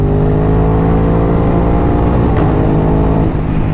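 An Aprilia RS 660 sport motorcycle pulls hard from close by, its engine note climbing steadily and then breaking briefly at a shift from first to second before rising again.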